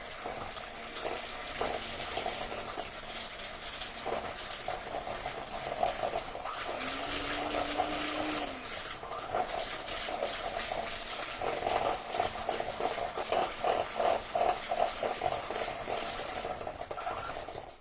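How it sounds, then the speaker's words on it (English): An electric mixer beats batter for holiday squares in a kitchen: a steady whirring motor hum with rhythmic pulsing beater churn, loud and close throughout, with no talk. "I'm going to use my mixer to beat this up really well"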